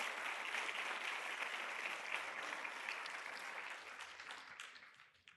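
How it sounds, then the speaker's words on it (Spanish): Church congregation applause, a broad wash of many hands clapping that holds steady for several seconds, then thins and fades out at the end, fairly faint and with no voices over it. "les damos un fuerte aplauso también de bienvenida a todos ustedes"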